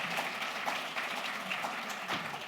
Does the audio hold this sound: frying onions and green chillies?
no